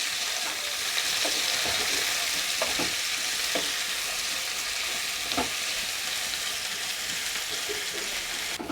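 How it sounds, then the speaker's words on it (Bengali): Cauliflower fries in hot oil for a chilli cauliflower dish, with a continuous close sizzle and bubbling, punctuated by a few light spatula stirs and pops. "তেলটা গরম হয়ে গেছে, এবার আমি ফুলকপিটা এতে দিয়ে দেবো।"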